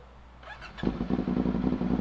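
A CFMoto 450SR motorcycle fitted with an SC Project exhaust and a catalytic converter delete fires up loud and close after a brief higher whine, then settles into a harsh, throbbing idle with steady pulsing.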